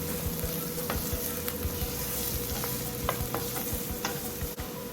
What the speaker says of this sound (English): Add onions and let them cook.